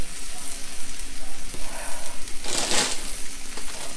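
Mung bean sprouts hitting a hot pan for Pad Thai, a steady broadband sizzle and crackle throughout with a brighter, louder hiss burst near the end.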